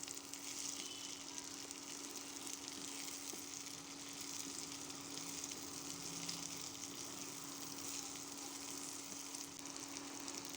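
Jackfruit, potato, carrot and rice frying together in a pan give a steady, close sizzle that carries on unbroken with no talk over it.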